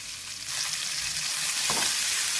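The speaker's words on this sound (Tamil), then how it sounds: "நல்லா வதக்கிக்கலாம். கொஞ்சம் வேகணும். ஒரு 2 நிமிஷம் வதக்கிக்கலாம்." Carrot, cabbage and capsicum sautéing in a hot pan, giving a steady close sizzle with soft stirring scrapes that grow slightly louder toward the end, with no talk.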